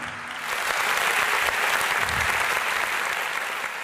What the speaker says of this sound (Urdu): اچھا، پھر بھرپور تالیاں ہو جائیں تو آپ نے اپنے لیے تالیاں بجانی ہیں۔